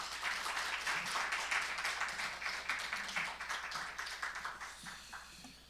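A church congregation claps steadily to welcome a visiting pastor at a dawn prayer service, a dense sustained applause that slowly thins out over several seconds.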